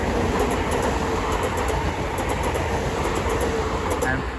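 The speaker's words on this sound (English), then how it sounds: "About to pass through now will be a South Eastern pair of 465s going to London Charing Cross" A pair of Southeastern class 465 electric trains passes through New Cross on the South Eastern Main Line, a loud, close, continuous rumble and rush of wheels on rails that holds steady throughout.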